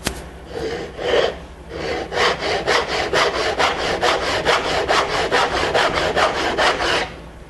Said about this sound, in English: And I just cut about halfway down through that block.